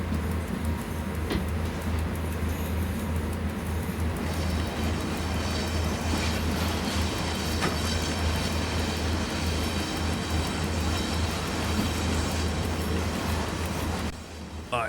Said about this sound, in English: I'm just going to reverse it. I'm not changing cab.